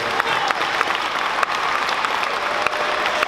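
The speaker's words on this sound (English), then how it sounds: "give them a round of applause" An audience at a student math basketball tournament applauds, with steady, dense clapping throughout and crowd murmur underneath.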